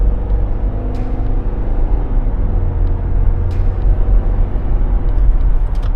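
A 2019 Subaru Forester on a test drive just after a front and rear brake job, with a loud, steady road rumble and engine noise from inside the car and a few faint clicks, no talking.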